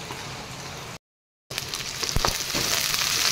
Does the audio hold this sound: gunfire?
no